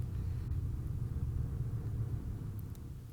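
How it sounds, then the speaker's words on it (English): A deep, rumbling bass drone from the Abyss in the video game Hollow Knight fills the clip continuously, low and heavy with little change, with nothing else on top. "the deep bass drone in the Abyss"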